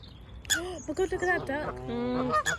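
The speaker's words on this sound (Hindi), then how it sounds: "लड़ाइयाँ कर रही हैं डक्स पे, फूड पे" Ducks squabbling over bread give loud, honking quacks in quick bursts close by, and a human voice can be heard among them.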